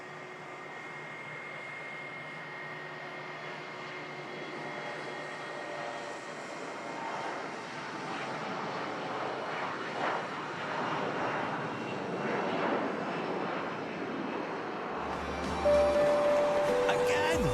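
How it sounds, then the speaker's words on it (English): A Scandinavian Mitsubishi CRJ900 long-range jet airliner departs Manchester Airport for Copenhagen, its engine roar building steadily and broadly over about seventeen seconds, heard from a distance with a faint voice underneath. "Scandinavian Mitsubishi CRJ 900 long range heading back to Copenhagen."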